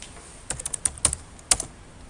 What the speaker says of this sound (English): you can type in your information separately